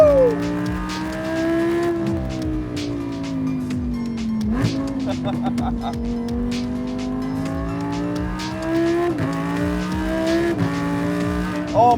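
A tuned Lamborghini Huracán V10 LP580-2 accelerating hard, its engine note climbing steadily through the gears with sharp upshift breaks, loud and close as from inside the car.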